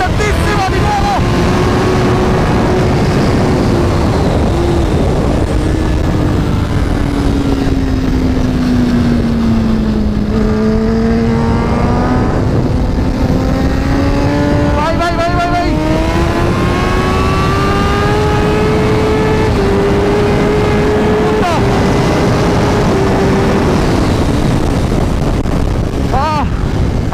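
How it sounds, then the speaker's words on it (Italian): A heavy motorcycle howls at full throttle around the Vallelunga race track, its loud engine tone rising and falling through gear changes, with strong wind noise throughout and a rider talking over it. "la moto pesantissima di nuovo"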